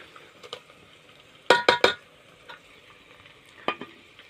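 Onion and chickpeas fry in hot oil with ginger-garlic paste, giving a soft background sizzle broken by a few sharp clinks of a utensil against the pan.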